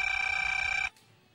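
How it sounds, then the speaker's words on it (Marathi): A telephone bell rings in a home: one loud, steady electronic trill lasting under a second before it cuts off abruptly into quiet room tone. "फोन घे जरा."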